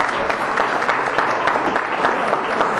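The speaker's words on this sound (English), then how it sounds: "Let's give them a round of applause." Audience applause at a Latin Chamber of Commerce luncheon: dense, steady clapping from a roomful of people, loud and continuous from start to finish with no voices standing out.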